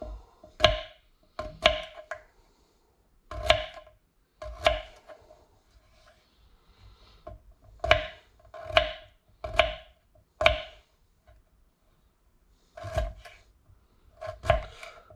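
A knife chops potatoes into chunks on a board for a steak and potatoes meal, in clusters of sharp, close knocks separated by short pauses, with no voices.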